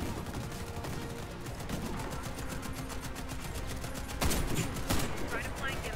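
Gunfire in the first-person shooter Warface, with rapid bursts of automatic shots running steadily throughout and a couple of louder volleys near the end, mixed with game ambience and a voice talking over it.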